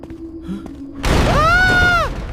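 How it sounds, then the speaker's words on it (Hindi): In an AI-made cartoon, a door slams shut by itself with a sudden loud boom, followed by a ringing, wavering tone that fades out after about a second. "दरवाजा खुद बंद हो गया।"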